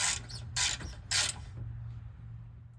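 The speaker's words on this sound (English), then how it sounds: "we're going to undo, loosen up, and just take out these guide pins for the caliper" Allen socket on a ratchet loosening and backing out the front brake caliper guide pins on a 2019 Volvo XC90, three short close ratcheting bursts followed by quiet with a low hum underneath.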